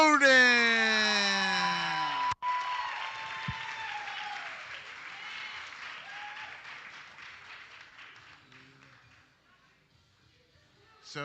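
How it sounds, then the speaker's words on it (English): Applause from the audience for a gold medalist at a powerlifting regional championship in the Cayman Islands. It starts loud with a wavering whistle-like tone at the front, then the crowd clapping gradually fades away over about ten seconds. "Okay, big round of applause."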